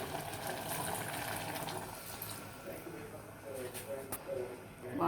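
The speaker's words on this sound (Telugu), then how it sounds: "వాటర్ వేస్తున్నాను." Water poured into a pressure cooker of mutton curry, a close, steady gushing pour that eases midway and then swells again, with a voice speaking over it.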